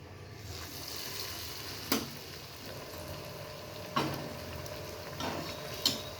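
Hot oil sizzles steadily in a kadai as a potato snack fries, a low continuous crackle with three sharp utensil taps spaced about two seconds apart.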